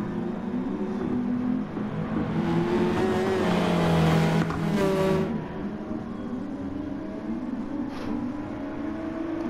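Race cars roaring around a circuit during the safety car period of a GT race, engine drone rising to a loud, close pass with a brief high-pitched whine, then fading back to a steady hum of cars.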